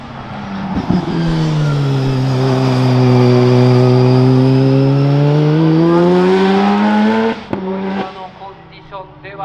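A tuned car accelerates hard out of a hairpin at Tsukuba circuit, its engine note loud and close, rising steadily for several seconds before a sudden shift and fading roar.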